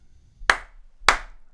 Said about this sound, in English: Do you want to do the applause?